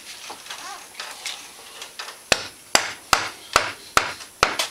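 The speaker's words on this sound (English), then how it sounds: "Tap it with a hammer." Sharp metallic hammer taps ring out on a stuck Can-Am X3 front axle in its knuckle, about six evenly spaced strikes in the second half, after softer scraping and handling noise.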